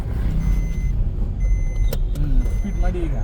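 A car drives along during a learner's driving lesson as the gear is shifted, with a loud, steady engine and road rumble close by and a person talking over it.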